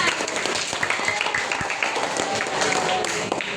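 A classroom of students claps for a classmate's answer, a brief spell of scattered, close hand claps under a teacher's voice.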